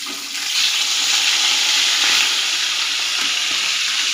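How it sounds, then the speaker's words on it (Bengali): Pieces of catla fish, heads first, fry in hot salted oil in a pan, giving a steady loud bright sizzle with bubbling crackle, close and uninterrupted. "এরপর মাছগুলো একটা একটা করে ভেজে নেব।"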